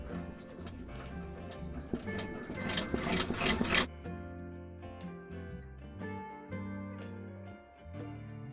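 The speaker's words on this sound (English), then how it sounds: "it's going to be the placement stitch, and that's just going to go down first so you know where to place your mask" A home embroidery sewing machine runs a placement stitch on a novelty drinking mask, a steady mechanical whirring with rapid rhythmic ticking. It is close and moderate in level and grows busier for a few seconds before settling back.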